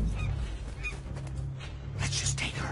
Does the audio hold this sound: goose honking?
yes